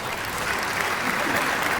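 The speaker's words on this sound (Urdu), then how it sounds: "بلا تاخیر تالیوں کی گونج میں اسٹیج پر تشریف لاتے ہیں عادل خان" Steady, dense applause from an audience fills the space as Adil Khan is welcomed onto a stage, a continuous even patter of many hands clapping without a break.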